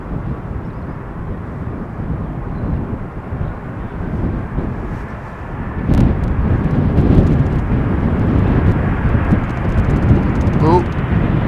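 A 22-year-old airliner, delivered in December 2000, arriving in a crosswind on runway 18R at Amsterdam Schiphol: a continuous, loud, rumbling jet roar with wind buffeting the microphone, growing heavier halfway through.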